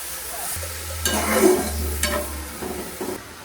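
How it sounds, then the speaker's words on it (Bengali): Papaya being stirred in a pan as water goes in, a steady low simmering hiss with soft scraping strokes of a spoon at close range, no voices. "অল্প একটু দিয়ে এদিক ওদিক নেড়ে এবার দিয়ে দেবো জল"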